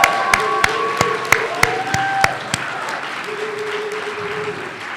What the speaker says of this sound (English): round of applause to all of our graduates